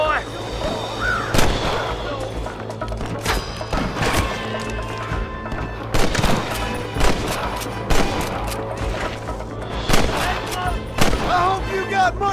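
Gunshots in the video game Red Dead Redemption, a string of loud, sharp cracks spaced irregularly over a steady low rumble, some shots close and booming, others lighter.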